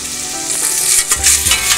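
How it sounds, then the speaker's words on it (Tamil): Chopped large onions fry for sambar in a pan, a loud, close, continuous hiss and crackle with a few stirring scrapes partway through. "நல்லா ஃப்ரையாகட்டும்"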